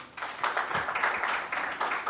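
Audience at a function at Rawalpindi Cricket Stadium applauding, a steady patter of many hands clapping at moderate distance, brief and fairly even.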